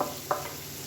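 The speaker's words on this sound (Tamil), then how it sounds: "ஃபஸ்ட்டு இந்த வெள்ளைக்கரு மட்டும் சேர்த்து நல்லா ஒரு பரட்டி விட்டுக்கலாம்" Egg whites stirred into a masala in a pan, giving a soft sizzle with a single scraping stir near the start, close and quiet, no voices.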